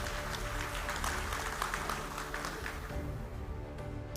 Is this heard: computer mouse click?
no